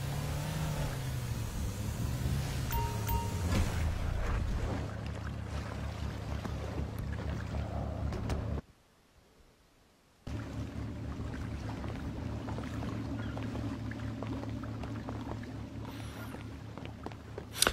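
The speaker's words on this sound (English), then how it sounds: "So I'm going to bring the ship around now and just going to park it up" Cruise ship moving in the video game GTA V, a steady engine drone and water wash, briefly cut to near silence midway before resuming.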